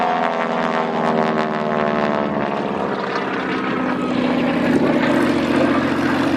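A North American Harvard propeller trainer at the Wings Over Wairarapa air show gives a loud, steady engine drone with a rasping prop tone, holding close and continuous throughout and swelling slightly near the end.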